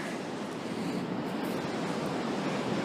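Ocean surf on McClures Beach at Point Reyes rushes as a dense, steady wash of breaking water, loud and close, with no talk over it.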